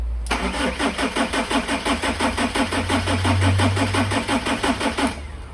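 A BMW M47 diesel engine fitted in a Ford Transit van turns over on the starter in a steady, rhythmic cranking chug for about five seconds without firing, loud and close, with no speech.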